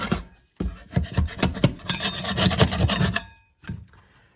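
Close, harsh scraping of loose material off a tile backsplash, a few short strokes followed by a long continuous rasp, then a brief final scrape.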